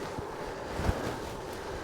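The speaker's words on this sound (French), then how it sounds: "Il y a du vent, hein?" Strong headwind battering the microphone of a cyclist on a road ride, a constant roaring buffet with a couple of harder gusts and no talk.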